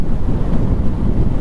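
Wind buffets the microphone steadily while riding a Yamaha FZ motorcycle at about 50 speed on a ghat road, a loud, continuous low roar with no talking.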